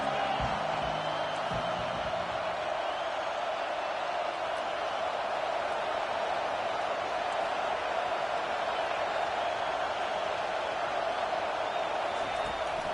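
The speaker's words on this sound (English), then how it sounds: "Decibels rising as the crowd gets behind this defense on third down." A football stadium crowd roars in a steady, dense wash of noise as the defense lines up on third down in an Alabama versus Oklahoma game, loud and sustained throughout.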